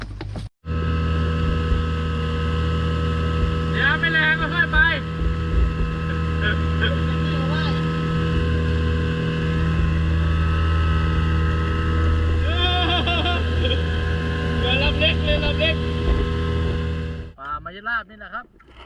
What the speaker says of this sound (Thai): โหแต่ว่าเครื่องมันยังติดอยู่นะครับ